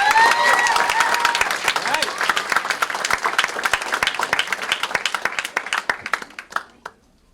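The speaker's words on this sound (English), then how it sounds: "So let's give him a round of applause." An audience applauding at a poetry reading event: dense, loud clapping from a crowd that starts full and steadily thins into scattered individual claps before fading to silence, with no one speaking.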